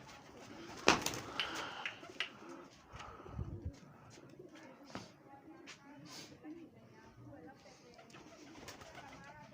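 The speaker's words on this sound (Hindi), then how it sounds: "सारे अच्छे कबूतर। एक से बढ़कर एक कबूतर।" Brown fighting pigeons with long stripes coo softly and faintly close by, low throaty calls mixed with light bird chirps and a few knocks, while someone talks over them.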